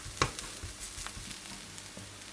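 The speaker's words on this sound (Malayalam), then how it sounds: "അങ്ങനെ നമ്മൾ തേങ്ങ അതിനകത്തിട്ട് ഒന്ന് വഴറ്റിയെടുക്കാം." Grated coconut with turmeric sautéing in a pan for broccoli thoran: a soft, steady close-up sizzle broken by a few light stirring scrapes.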